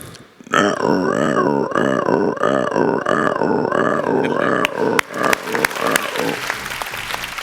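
A voice mimics croaking frogs in a rapid, continuous run of throaty pulses, loud and close, ending in scattered clicks.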